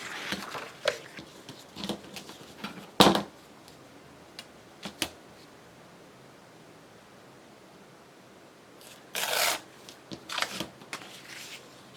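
Paper being torn by hand while making collage ephemera for a journal: a sharp rip near the start, then a longer ripping burst and a few shorter tears later, close and fairly loud against a quiet room.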